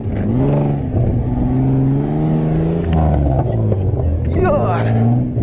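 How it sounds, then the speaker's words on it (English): A loud 4x4 off-road vehicle engine revs and roars with a deep rumbling exhaust note, rising and falling, during an off-road challenge event, while a voice calls out partway through. "Beautiful exhaust."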